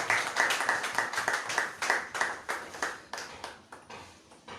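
Congregation at a church service clapping together in a steady rhythmic beat, bright repeated claps filling the room with no talk over them.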